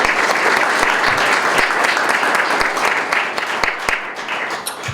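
Guests at a school district event celebrating the arrival of electric school buses receive a round of applause, a dense sustained clapping with a few sharp individual claps standing out.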